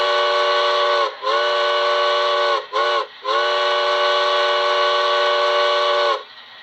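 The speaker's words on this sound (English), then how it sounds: "So there's the grade crossing sequence, so you get to hear the bell and whistle there." Grade crossing sequence from a Soundtraxx Econami steam DCC sound decoder on a model railroad: a loud, steady steam whistle with a long blast, two brief cut-offs and a final long blast.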